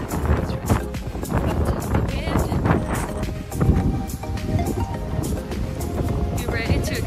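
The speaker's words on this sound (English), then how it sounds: "You ready to experience the Clovis, New Mexico wind?" Strong wind buffets a microphone outdoors in Clovis, New Mexico, a loud, continuous, rumbling roar that gusts without letting up, with a voice faintly heard beneath it.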